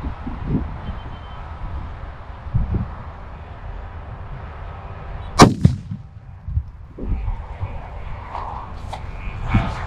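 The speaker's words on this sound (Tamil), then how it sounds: "ஒரு கிலோ வெடி வெடிக்க போறேன், அதையும் பாருங்க." A 1 kg Valangaiman country firecracker bursts in an empty open area, one sharp loud blast midway followed by a rumbling echo and trailing crackles over low background noise.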